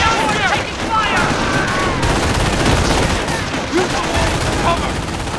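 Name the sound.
gunfire in video game Company of Heroes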